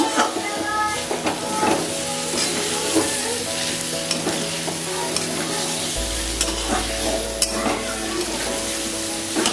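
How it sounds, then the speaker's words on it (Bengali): Pointed gourd and paneer stir-fried with spice paste crackle and hiss steadily in the pan, while repeated scraping and clinking strokes recur throughout. "হালকা ভেজেই আমি এর মধ্যে দিয়ে দিলাম পটল আর পনির। এবার এগুলোকে মশলাটার সাথে মিশিয়ে নেব।"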